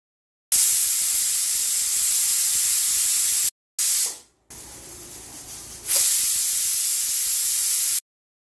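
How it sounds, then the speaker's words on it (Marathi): A pressure cooker making masoor pulao lets out loud, steady hissing steam whistles in long bursts, cut by brief gaps, with no talking over it. "आता आपण कुकरच्या 3 शिट्ट्या करून घेऊया."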